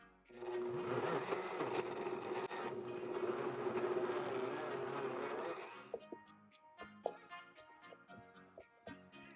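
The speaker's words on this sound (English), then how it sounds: "Blend on low speed." A blender runs on low speed mixing confectioners' sugar, salt, vanilla and other cookie dough ingredients, giving a steady motor whir with a whine for about five seconds before stopping, followed by quiet clicks and taps.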